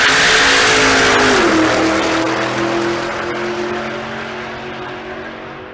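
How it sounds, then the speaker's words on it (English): A supercharged small-block rat rod screams down the drag strip at full throttle. It starts loud and close, then a gear change drops the pitch and the engine fades as the car pulls away. "Glover with the rat rod."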